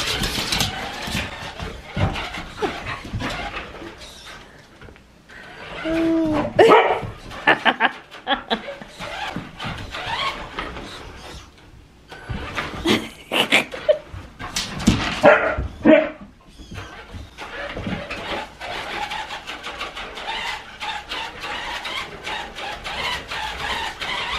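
A puppy barks in excited bursts during play, with yips and louder clusters of barks around the middle, alongside an engine-like hum and faint talk nearby.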